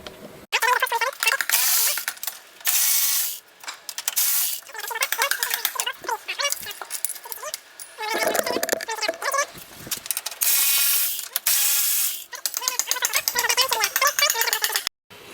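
A ratchet backs out bolts from the front nose panel of a BMW E36 M3, with loud, close bursts of rapid clicking separated by short pauses.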